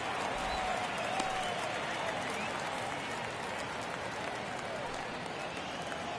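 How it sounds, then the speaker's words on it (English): Baseball stadium crowd in MLB The Show 22 during a Dodgers–Diamondbacks game in the ninth inning, a steady wash of cheering and clapping throughout, loud and continuous, with commentary voices over it. "Crowd locked in right now."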